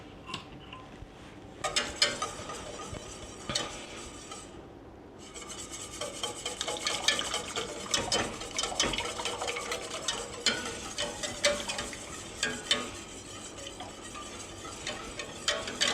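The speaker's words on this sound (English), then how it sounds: "Use a whisk." Whisk scraping and rubbing steadily through tamale sauce in a pot, a continuous close rasping stir with quick rhythmic strokes and no talk.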